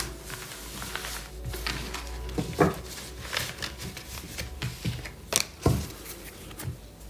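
Tarot cards shuffled and drawn from a deck at close range, soft papery riffles and slaps with several sharper snaps as cards are pulled and laid down.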